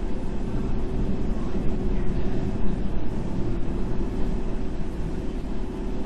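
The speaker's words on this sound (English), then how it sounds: "And there's another train coming in." A London Underground train of old stock pulls into a station in a subway simulator game, giving a steady, loud low rumble and drone that holds evenly throughout with no voices.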